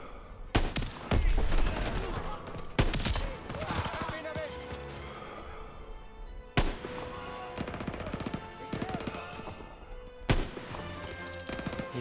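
Sharp gunshot cracks from sniper rifle fire in the Call of Duty WWII game, on a factory level, ring out at irregular intervals. Some blasts are loud and close, with lighter shots in between, and voices run underneath.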